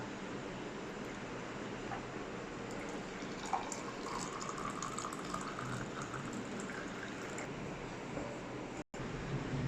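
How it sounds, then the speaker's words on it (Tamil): Boiled garlic, ginger and lemon water is poured through a strainer, giving a steady, continuous rushing splash of liquid at close range that stops abruptly just before the end. "இனி நம்ம இப்படி ஒரு வடிகட்டியில் நம்ம வடிச்சிடலாம்"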